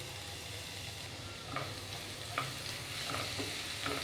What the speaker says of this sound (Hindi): हम इसमें 1 टेबलस्पून चॉप किया हुआ लहसुन ऐड कर देंगे।